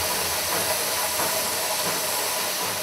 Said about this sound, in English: Did you hear the sound the machine made when it squashed the rubber nuggets into half balls?